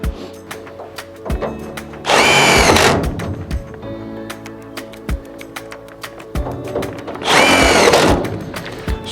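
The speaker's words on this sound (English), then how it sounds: "we're just going to take 2 screws and screw this piece onto the furnace casing itself." Power drill driving two screws through a fitting into a 90%+ furnace casing; two loud whirring bursts, each a second or so, separated by clicks and knocks of handling.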